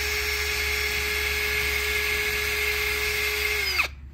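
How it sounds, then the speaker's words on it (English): Drill fitted with a wire brush adapter spinning steadily while cleaning the wheel hub surface of a 2007 Citroen C2 1.6 VTS during front brake work, a continuous close whine that winds down and stops near the end. "clean the wheel hub surface with a wire brush or a wire brush adapter"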